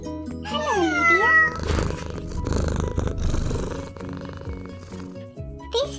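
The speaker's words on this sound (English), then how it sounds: "This is Lily Cat." A cartoon cat character meows in a kids puzzle video game, a bright, wavering cry followed by playful game music and sound effects, with a short second meow at the end.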